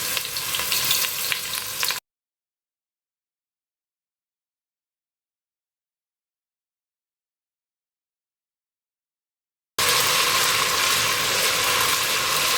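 Tomato paste frying in a pan with onions, a bright crackling sizzle close by, cut off by a long stretch of silence before the same steady sizzle returns.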